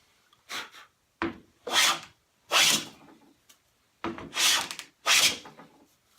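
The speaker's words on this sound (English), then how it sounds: "I'm cleaning up that sawn face" A hand try plane takes repeated strokes across the sawn face of a bandsawn, resawn wooden board, six rasping passes in a steady rhythm with short pauses between, close and clear.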